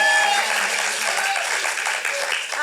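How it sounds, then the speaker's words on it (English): Audience applause at a young playwrights' festival, a continuous burst of clapping from a seated crowd that carries on steadily for the whole short stretch. "let's give them both a round of"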